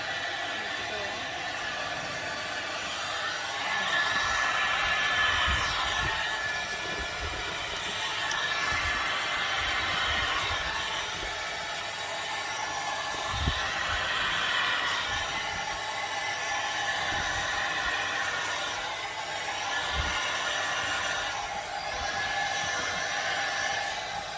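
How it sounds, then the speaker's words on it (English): A hair dryer blows on acrylic pour paint with a steady, loud airy roar, its pitch wavering slightly throughout, with occasional soft handling knocks. "So I got my dryer ready here."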